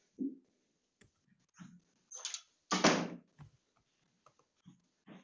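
A door that the wind has blown open is pushed shut indoors, giving a few sparse knocks, a brief rattle and one firm thud in the middle, followed by small clicks of the latch, close and fairly quiet with no talking.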